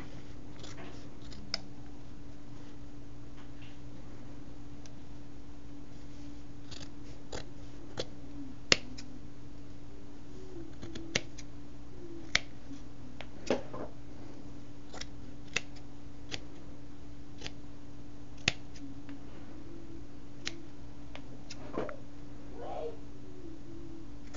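Scissors snip through fabric scraps in a long series of sharp, separate cuts at an uneven pace, close and crisp over a low steady hum, with faint occasional rustling between cuts.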